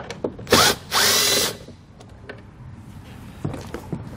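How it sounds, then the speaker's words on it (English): A power driver with a T25 Torx bit backs out taillight screws on a 2020 Ford, heard as two short, loud whirring bursts close by, followed by quiet handling clicks. "So we're going to have two Torx bit screws. So I'll grab a T25"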